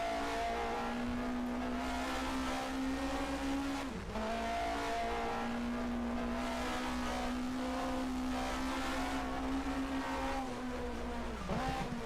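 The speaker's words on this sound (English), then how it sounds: "Downshifting for the hairpin." A 1979 DRM Division 2 race car at the ADAC Norisring Trophy in Nürnberg, its engine droning loudly and steadily, dipping twice in pitch with sharp blips as it downshifts for a hairpin, then pulling again.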